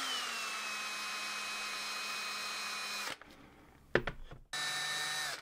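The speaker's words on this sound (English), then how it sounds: "we don't want to drill in too far with it" A power drill whines steadily into wood for a few seconds, stops with a couple of sharp knocks, then spins up again briefly.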